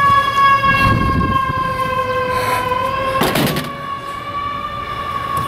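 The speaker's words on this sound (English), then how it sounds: "I thought that ambulance was gonna make more noise." An ambulance siren wails at steady volume, passing along a street, its tonal bands sustained throughout with faint background rumbles and clatter, no voices.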